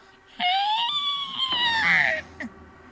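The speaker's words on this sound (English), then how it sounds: "The voice now sounds like something you never heard in your life. It wails with a high-pitched shriek" A high, piercing wailing shriek from a creature in a Digital Circus fangame, rising and bending in pitch as it holds for about two seconds, then cutting off with a short final yelp.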